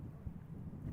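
Wind gusting over a river in January, a steady low rumble buffeting the microphone with no voices.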